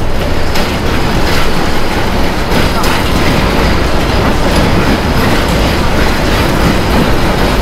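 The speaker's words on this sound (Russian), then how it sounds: "И вот трамвайчик вот так остановился" A tram rolls past on tram tracks crossing a street between two ponds, with a loud continuous rumble and rhythmic clacking of wheels throughout.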